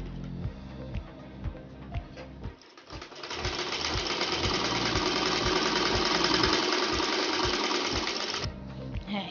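A sewing machine stitching a panjabi: rapid rhythmic needle clatter in short bursts, then a long steady whirring run of stitching before it slows and stops.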